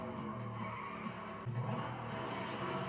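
Car drifting through a stunt run in Burnout Paradise, tires squealing in drawn-out bursts over a steady engine roar, loud and close throughout with no talking.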